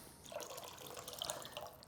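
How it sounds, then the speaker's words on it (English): Cold water pours and splashes softly into a bowl of sliced potatoes, a faint, steady trickling with light dripping and no talk. "I just got some cold water right here."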